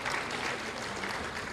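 Dense, steady applause from a large audience at an open dialogue forum hosted by Muhammadiyah, honoring Prabowo Subianto, sounding broad and continuous without a break.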